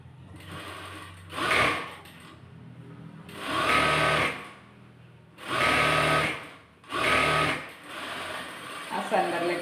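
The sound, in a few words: sewing machine double-stitching a slit churidar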